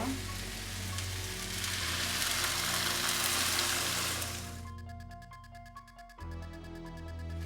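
Broth poured onto pumpkin and mushrooms bubbles and sizzles steadily in a hot pan for several seconds, then the cooking noise drops away, leaving soft background music.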